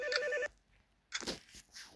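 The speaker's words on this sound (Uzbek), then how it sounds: "Telefon bo'lyapti, men olaman." A telephone gives a short electronic ring, a single half-second burst of tones, followed by quiet and then some indistinct rustling.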